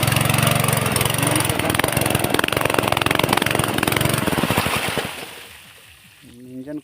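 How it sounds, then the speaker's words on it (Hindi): A farm engine beside a rice paddy runs loud with a steady rapid chugging, then shuts off about five seconds in, leaving near quiet with a faint sound at the very end. "और अब जा रहे हैं इंजन को बंद करने हम।"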